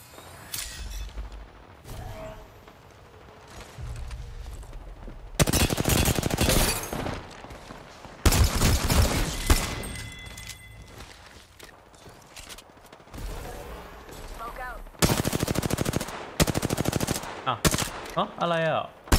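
Gunfire in a first-person shooter game: repeated loud bursts of rapid automatic fire separated by quieter gaps, with short pauses between volleys.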